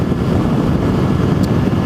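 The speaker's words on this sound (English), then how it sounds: "now it's very windy, so I can barely hear myself speak here" Strong wind buffets the microphone outdoors beside a road lane, a loud, steady low rumble of gusting noise that fills the whole moment with no voice heard.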